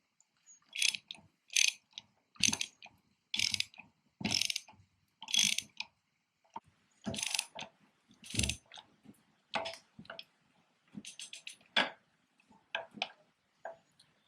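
A ratcheting wrench tightens a caster wheel bolt on a Scag V-Ride II SVR-52-23FX mower, giving repeated bursts of close, crisp clicking strokes with short pauses between them, with no voices.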